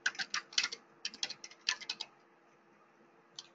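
Fast clicks of a computer keyboard, typed in short bursts for about two seconds, then a pause and one more lone keystroke, close and quiet with no voices.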